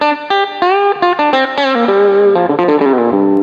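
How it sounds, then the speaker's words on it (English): Electric guitar through the Soundcraft Ui24r mixer's built-in effects, with distortion, chorus shimmer and reverb, playing a busy melodic run of quick notes and bends, loud and up front. "that is the sounds of the guitar processing that's built into this"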